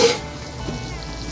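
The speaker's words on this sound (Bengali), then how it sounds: "আলুটাকে বাড়িয়েই ভাজছি," Potato pieces frying in hot oil in a pan over high heat, a brief steady sizzle with a soft clatter at the start.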